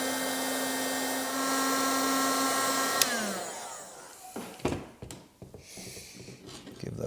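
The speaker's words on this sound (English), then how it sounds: "And just hit it with the heat gun." A heat gun blows a steady, loud broadband whoosh while shrinking heat shrink tubing over soldered wires, then cuts off at about three seconds and winds down, leaving brief handling clicks and rustles.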